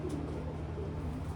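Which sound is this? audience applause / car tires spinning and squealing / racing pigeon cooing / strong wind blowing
racing pigeon cooing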